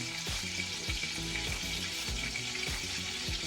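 Pork sizzling hard in a hot pan as marinade is poured over it, a loud dense crackle with repeated low spattering bursts throughout.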